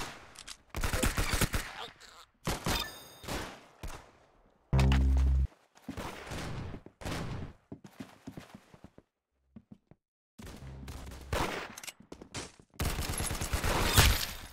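Gunfire in a Roblox game comes in loud clusters of quick shots separated by quiet gaps, with a voice speaking between bursts.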